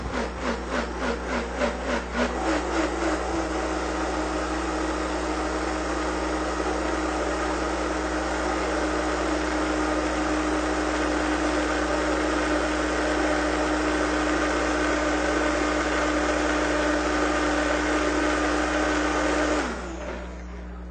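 A Vitamix blender whirs a thick chocolate fudge bar mixture at a trade expo, pulsing unevenly for the first two seconds, then roaring steadily at full speed before cutting off near the end.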